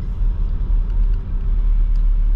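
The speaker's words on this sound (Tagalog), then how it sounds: "Kaso nga lang ang traffic palabas." Steady car traffic rumble in a Tesco supermarket parking lot in Ireland as vehicles queue to leave, a continuous low engine drone from nearby cars with no voices.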